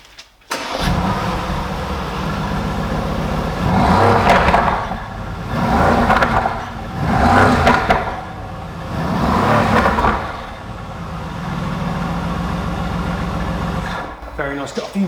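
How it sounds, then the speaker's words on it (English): A V12 supercar engine starting up and idling with a deep rumble, then rising in several loud revs that peak and fall back before settling to idle, while people talk nearby. "the V12 has a unique sound. It is the most amazing sound, but this is low-end grunt"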